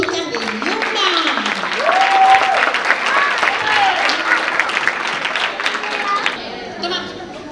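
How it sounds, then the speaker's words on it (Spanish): Applause rises for the Luna girls, Paola's team, at a live community program, with steady clapping and crowd chatter over most of the clip and some voices mixed in. "Un aplauso a las chicas de Luna."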